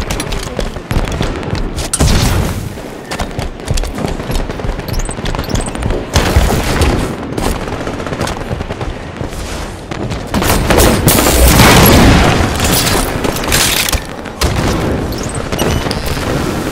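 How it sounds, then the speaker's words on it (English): In a Warzone video game match, dense gunfire and grenade explosions run nonstop for the whole stretch, loud and close, with repeated booms and rapid bursts layered over one another. "Enemy fire! Grenade!"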